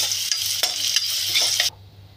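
Green chillies fry in a hot pan with a loud, continuous sizzle, broken by several scraping stirs, until the hiss suddenly stops near the end.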